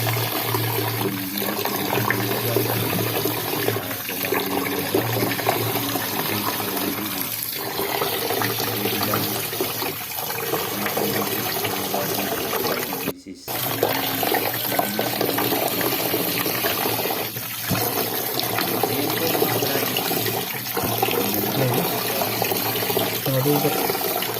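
Anchovies (dilis) being rinsed in water: steady splashing and running water continues throughout, with a brief dropout midway and a voice talking now and then under it.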